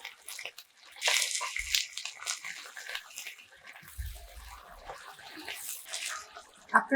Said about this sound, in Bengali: একটু পানি দিয়ে দিচ্ছি।